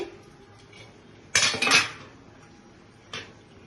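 A spoon clanks against a pan while a peanut sweet mixture is stirred, two short bursts of scraping and clinking, with the second one briefer and fainter, in an otherwise quiet room.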